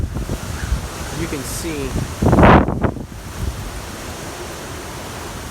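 A strong Hurricane Ida wind gust in Terrebonne Parish roars in as a broad rushing burst against the microphone, peaking sharply then fading, with someone talking over the windy background before and after.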